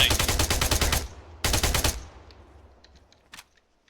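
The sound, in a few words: suppressing gunfire in the video game Arma 3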